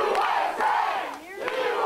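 A wrestling crowd at an NWA Houston event cheers and shouts loudly in a dense, continuous roar that swells and dips over about two seconds.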